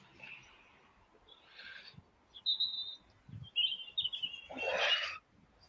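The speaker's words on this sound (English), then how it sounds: "It's just nice to be out amongst the birds." Outdoor birds at a fishing spot give scattered short chirps and whistled tweets at varying distances, some nearby and fairly loud, with quiet gaps and a soft snort-like noise between calls.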